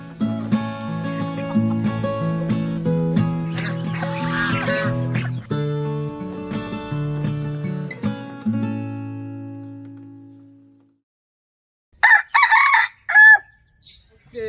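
Chickens and a rooster on a farm in Malaysia, with loud overlapping crowing and clucking at close range for several seconds, then quiet, followed by a few short squawks near the end.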